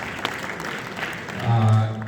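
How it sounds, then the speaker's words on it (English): An audience at an economics olympiad ceremony in Bangladesh breaks into a round of applause near the end, swelling briefly after a moment of quieter room sound. "Let's give them a round of applause."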